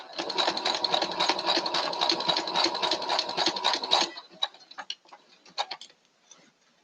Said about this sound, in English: I go all the way down and then I back stitch all the way back.